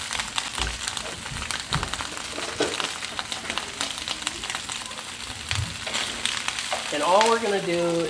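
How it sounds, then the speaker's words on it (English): Fresh asparagus tossed in a hot pan, sizzling and crackling steadily throughout, with stirring scrapes and a brief voice near the end. "all we're going to do is toss this around to get it nice and warm"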